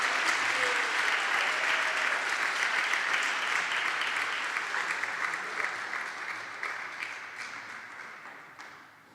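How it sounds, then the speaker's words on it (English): Sustained applause from a live audience at a poetry and music performance, steady and dense at first, then gradually thinning and fading toward the end. "Please give her another round of applause"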